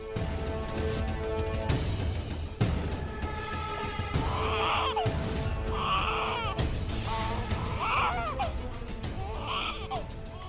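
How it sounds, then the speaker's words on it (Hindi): An infant cries in repeated wailing bursts over a busy, loud background of music or other sound, the cries rising and falling every couple of seconds. "शायद बच्चे की रोने की आवाज इधर से आ रही है।"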